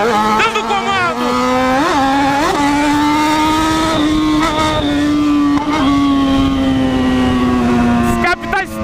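A motorcycle engine revs loudly and steadily, its pitch rising and dipping with throttle blips, with sharp exhaust pops and crackles near the end.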